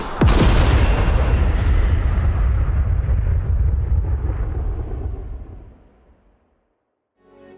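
A huge explosion in a stadium from a Pokémon video game cutscene: a sharp, loud blast followed by a long rumbling roar that slowly fades out over several seconds, with no talking.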